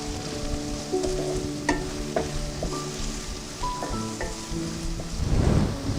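Onions, ginger and green chillies frying in a pan, a steady close sizzle broken by the scrape and clink of a spoon stirring them, with a louder burst of spattering near the end.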